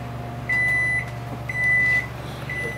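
A microwave oven hums steadily with a xenon-mercury plasma globe inside, while high beep-like tones repeat in three evenly spaced bursts over the running drone.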